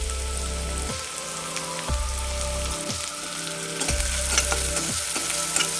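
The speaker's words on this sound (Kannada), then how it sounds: "2 ಸ್ಪೂನು ಎಣ್ಣೆ ಹಾಕ್ಕೊಂಡು ಅದಕ್ಕೆ ಈರುಳ್ಳಿ ಹಾಕ್ಕೊಳ್ಳೋಣ," Onions and green chillies fry in a hot kadai with a little oil, a constant close sizzle broken by repeated scraping stirs of a spoon against the pan at roughly one-second intervals, with no talking.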